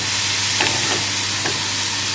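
Steady, close sizzle of mushrooms frying in a pan, a continuous hiss with a few soft stirring scrapes.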